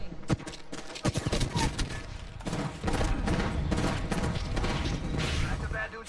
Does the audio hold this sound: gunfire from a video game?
yes